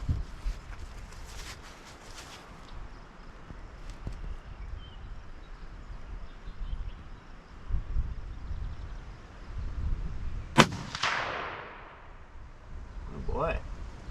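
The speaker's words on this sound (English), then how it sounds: "We're gonna go ahead and fire another one off just to confirm." A Ruger American Gen 2 rifle in 6.5 Grendel fires a single sharp, loud shot late in the clip, cracking out over steady outdoor wind rumble and low background noise.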